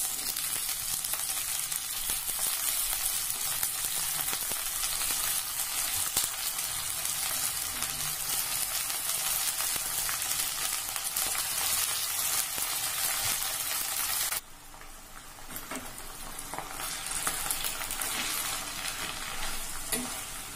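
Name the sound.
drumstick leaves sautéing with shallots in a pan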